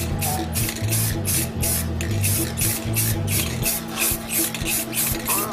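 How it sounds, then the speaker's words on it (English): Aerosol spray paint hisses in repeated short bursts while symbols are painted onto a DIY electronic drum kit, with a fan running steadily in the background; the spurts are close and fairly loud, lightly dusting the surface. "Dust painting. You're just dusting it."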